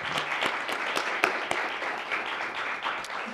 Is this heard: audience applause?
yes